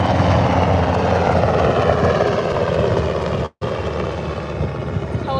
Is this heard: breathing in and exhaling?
no